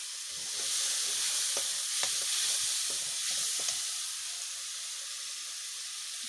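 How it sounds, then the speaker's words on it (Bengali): Whole spices frying in hot oil in a pan, a steady close sizzle and hiss with a few soft stirring scrapes early on, the sizzle easing slightly toward the end. "মশলাগুলিকে আমি ভেজে নেব"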